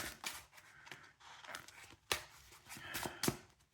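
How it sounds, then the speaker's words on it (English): A Yu-Gi-Oh card deck is shuffled by hand, giving quick soft riffling and papery slaps in short irregular bursts, close and fairly quiet. "I'm going to give this deck a nice good shuffle"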